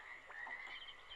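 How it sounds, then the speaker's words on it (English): Frogs croak steadily in a calm outdoor ambience in the Myst video game, their repeated chirping calls layered close together with no voices. "I can hear frogs."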